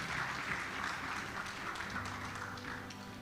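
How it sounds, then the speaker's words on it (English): Audience at an evening awards ceremony in a hotel applauding the mayor, a faint, distant wash of many hands clapping steadily for a few seconds. "Please, can we clap better for the mayor?"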